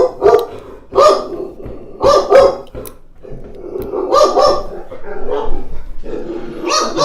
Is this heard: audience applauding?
no